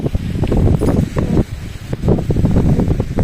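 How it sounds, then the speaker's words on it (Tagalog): Gusty wind roars and buffets loudly in surges, with rustling and a brief lull partway through before it picks up again. "Tingnan niyo po kung gaano kahangin."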